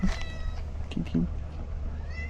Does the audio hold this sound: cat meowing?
yes